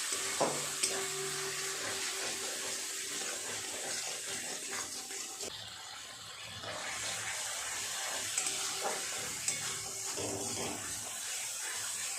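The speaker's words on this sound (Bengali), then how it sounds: "খুব ভালো করে মশলাটাকে কষিয়ে নিতে হবে" Ground spice masala sizzles in a hot pan for a Bengali jackfruit and shrimp curry, stirred and scraped continuously in a steady close hiss, with faint tonal sounds underneath.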